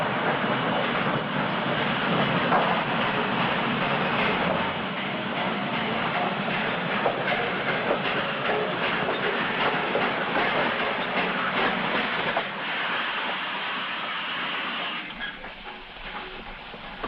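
Train at a railway station in Cannes, a steady broadband rumble of rolling stock and rail noise that holds loud throughout, easing slightly near the end, with no voices.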